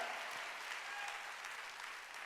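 Congregation clapping during a Korean church Sunday worship service, a steady dense wash of applause filling the room, sustained and even throughout with no voices standing out.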